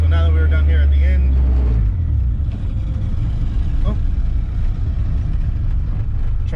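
Car with a B18B1 engine accelerating hard on a test drive, a loud engine note climbing in pitch and then dropping off after a shift into a steady rumble, with a voice talking over the engine.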